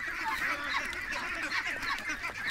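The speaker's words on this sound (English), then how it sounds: "No, ducks, no, you're not getting my boots." Several ducks honk and quack in a steady noisy chorus while chasing someone, at moderate distance and fairly faint.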